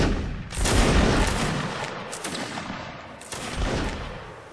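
Massed musket volleys crack out in Mount & Blade: Warband Napoleonic Wars line battle, two dense bursts of overlapping shots with echoing rumble between, loud and close, no talking.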